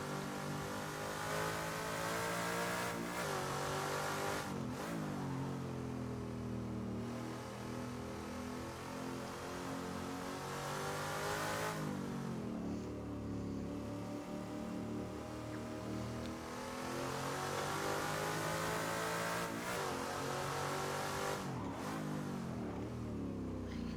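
A Group C touring car's engine revs hard and continuously in the Assetto Corsa racing game, the loud steady drone rising and falling through gear changes and throttle blips as the car leaves the pit lane with spinning wheels.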